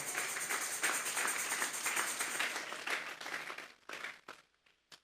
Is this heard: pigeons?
no